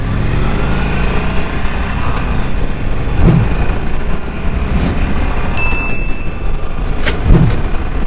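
A 2021 Harley-Davidson Sportster 1200 motorcycle pulls away under power, its engine roar loud and steady with heavy wind rush throughout and no talking.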